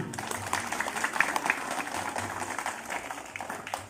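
Schoolchildren at an elementary school assembly on anti-bullying clap together in a steady, moderately loud patter of many small hands, with a faint voice or two murmuring underneath.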